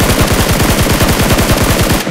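Sustained automatic gunfire in the PUBG Mobile battle royale game, a loud, rapid, evenly spaced burst of shots running continuously for about two seconds with no talk over it.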